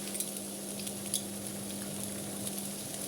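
Peppers, green beans and garlic fry in a hot pan, giving a steady soft sizzle with a constant hum beneath and a few light clicks from stirring, heard alone without talk.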